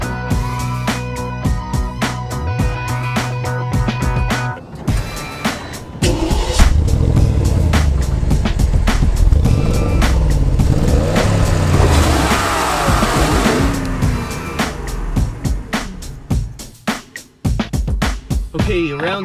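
A used Porsche Cayenne Turbo launching in a drag race against a Tesla Model X, its engine rising loudly through a long sustained acceleration with a gear change, close and dominant, fading near the end.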